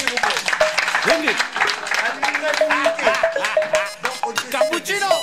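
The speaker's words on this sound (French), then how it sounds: "Applaudissez s'il vous plaît." Audience at an association's election meeting clapping in uneven bursts while several voices call out and talk loudly over the applause.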